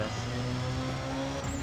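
A BMW's engine in the racing game Need for Speed ProStreet gives a steady, droning buzz at an even pitch, held close and constant without a break.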